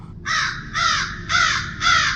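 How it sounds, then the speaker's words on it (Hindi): A crow caws from a tree outside, four loud, harsh, evenly spaced calls close by with no other sounds. "उसकी काँव काँव की आवाज़ से वह परेशान हो गई।"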